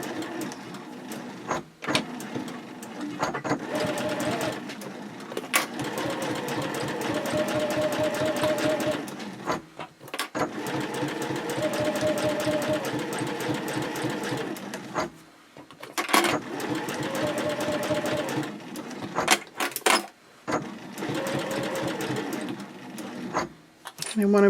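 Sewing machine stitching the lower gusset of a sling bag at a 1/4-inch seam allowance and 2.6 stitch length, running in several steady near bursts separated by brief pauses, with backstitching at the ends.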